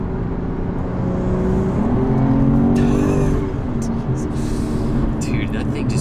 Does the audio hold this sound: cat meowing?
no